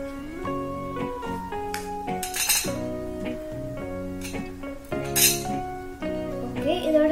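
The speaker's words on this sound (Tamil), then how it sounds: "அதை இப்ப கட் பண்ணி பார்க்கலாம்" A spoon or knife clinks a few times against a metal vessel while a set rava kesari is cut, with bright taps over steady background music.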